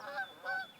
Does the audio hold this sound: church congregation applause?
no